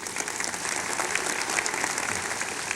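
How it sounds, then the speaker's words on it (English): Commencement ceremony audience applauding together at a speaker's request, a dense, steady wash of many hands clapping at close range with no talk over it. "I want you, first of all, to applaud."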